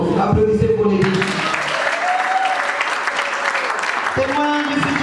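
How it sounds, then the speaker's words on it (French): Wedding guests at a French-language ceremony applaud, a sustained round of clapping that fills the room while a voice speaks over it at the start and again near the end. "Applaudissez pour les filles."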